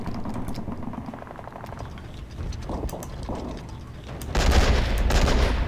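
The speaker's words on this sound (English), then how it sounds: "that is the hull machine gun at work" A tank's hull machine gun in Men of War, rapid bursts of gunfire with clicking mechanical rattles, rising to a louder, denser stretch of firing and rumble toward the end.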